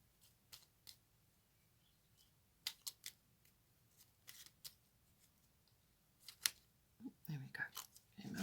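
Tarot cards shuffled and drawn with soft, scattered slaps and rustles, faint and close in a quiet room, with louder fluttering handling near the end.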